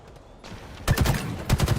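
Video game gunfire from Halo Infinite on PC: a few sharp shots burst out after a quiet start, with a second cluster near the end, fairly close and loud.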